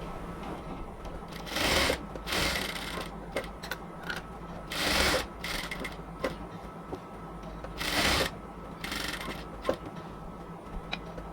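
A sewing machine stitches the shoulder seam of a cotton kamij in short, uneven bursts of whirring, with quieter handling noises in between, nearby and moderately loud, with no speech.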